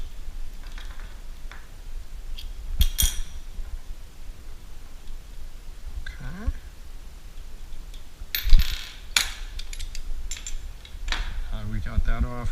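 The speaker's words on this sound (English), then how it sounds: "So next up we're going to remove this piece. We need a couple wrenches for this." A couple of wrenches work a fitting loose on a Gaggia Classic espresso machine during a pump replacement, giving scattered metallic clinks and clanks with short scraping gaps between them, close and moderately loud.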